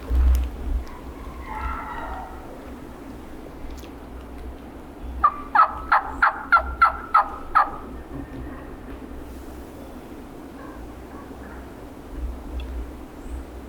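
A series of about seven rapid, rattling gobbles from wild turkeys sound out in quick succession over a quiet outdoor background near a road, moderately near.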